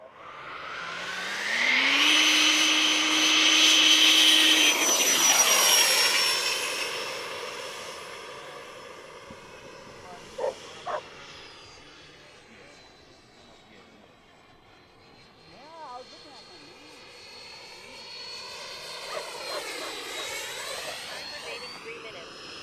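A Freewing A-6 Intruder RC jet flies past with a rising, whining ducted-fan howl that peaks loudly, then sweeps down and fades before returning for another pass, with voices talking nearby.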